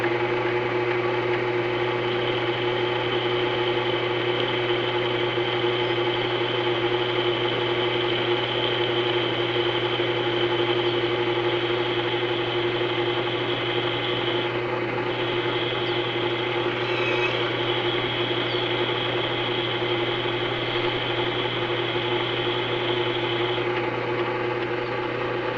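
A homemade experimental wind generator running continuously, giving a steady mechanical hum and whine with a constant drone and no pauses, loud and close throughout.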